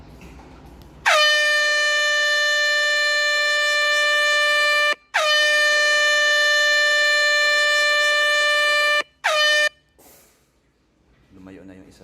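An air horn blares near a beagle and a pomeranian indoors, two long loud blasts and a short third one, followed by quiet and faint voices.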